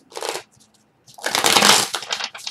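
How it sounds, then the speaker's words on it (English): Tarot cards are shuffled in two bursts, a short riffle followed by a longer, louder flurry of crisp card flicks close to the microphone. "Now you see me shuffling the cards, right?"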